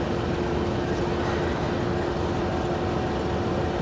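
Musa Pak passenger train pulled by a GU20 American diesel locomotive departing at midnight, a loud continuous rumbling roar with a steady engine drone, close by and unbroken.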